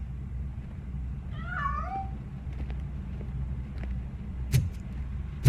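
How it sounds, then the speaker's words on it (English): A single drawn-out, wavering cat meow in the RoboCop Rogue City video game, moderately close over a steady low rumble, followed by a few faint clicks and a sharp thump. "That cat must be hiding inside."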